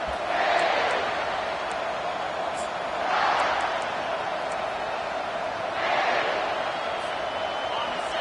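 Football stadium crowd roaring in steady, loud waves that swell and ease, with a commentator talking over it.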